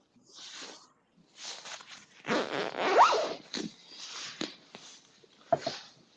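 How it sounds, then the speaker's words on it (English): A coat zipper unzipped outdoors in several quick rasping pulls, with short pauses between the strokes and a louder run near the middle, close and clear with no talking. "I unzipped my coat."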